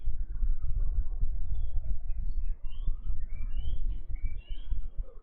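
Faint, sparse bird chirps come from a distance over a low rumble of outdoor background noise.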